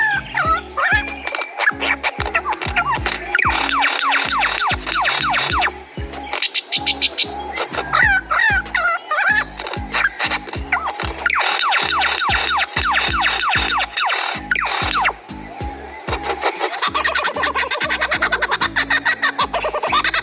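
A lyrebird mimics other sounds with rapid chirps, clucks and warbling calls in quick bursts, set against a steady, pulsing rhythmic beat that runs the whole time, with no talking.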